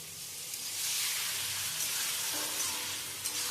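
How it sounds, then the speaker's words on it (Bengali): Spices sauté in a hot pan with a little water for a vegetarian dhokar dalna, giving a loud, continuous, bright sizzle and hiss, with a faint stirring scrape near the end. "কষানোর সময় অল্প একটুখানি জল দিয়ে কষাবো, যাতে মশলাগুলো পুড়ে না যায়।"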